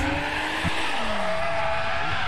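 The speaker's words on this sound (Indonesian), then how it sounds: "spin out dari Aldi Bosar dengan mobil BMW E46 ya, saat menuju clipping zone ke-6" A BMW E46 drift car spins out at a drift series qualifying round, a loud continuous engine roar with shifting pitch over a steady wash of tire noise and a brief thump, close and sustained throughout.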